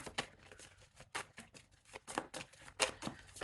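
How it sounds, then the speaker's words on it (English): A deck of tarot cards being shuffled by hand in repeated quick riffles and cuts, producing crisp papery bursts in an irregular rhythm, close and fairly quiet with no talking. "I'm just going to shuffle again."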